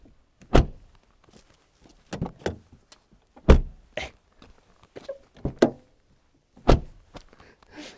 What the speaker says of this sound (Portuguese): Fecho de porta.